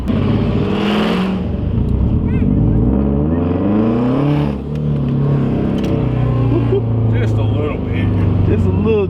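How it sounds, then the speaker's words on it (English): A car engine roars loudly and continuously, revving up and down with a whooshing turbo note, close by. "Give him a little turbo noise."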